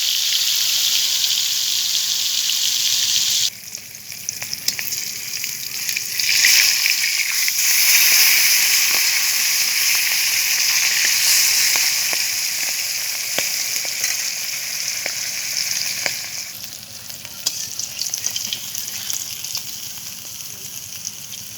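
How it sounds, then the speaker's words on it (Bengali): Pangasius fish pieces fry in well-heated oil in a kadai, giving a loud, steady sizzle with scattered pops and crackles and no talking. "তেলটা ভালো করে গরম হয়ে গেছে, এবার মাছগুলো ভেজে নেব।"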